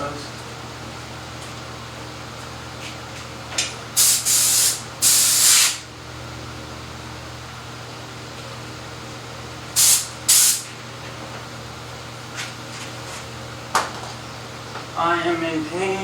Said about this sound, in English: Get the air hose.